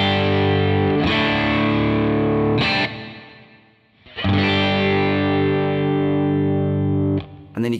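Heavy distorted guitar chords run through a UAFX Del-Verb pedal on the Lexicon-style Hall 224 reverb, several loud strums each trailing into a wide, lingering wash.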